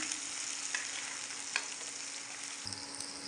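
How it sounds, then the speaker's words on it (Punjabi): Chopped onions hit hot oil with cumin seeds in a pan, giving a steady, close hiss of frying with a few faint clicks and a soft knock near the end. "ਹੁਣ ਇਹਦੇ ਵਿੱਚ ਆਪਾਂ ਪਾ ਲੈਂਦੇ ਆ ਪਿਆਜ਼ ਪਿਆਜ਼ਾਂ ਨੂੰ ਆਪਾਂ ਥੋੜਾ ਜਿਹਾ ਭੁੰਨ ਲੈਂਦੇ"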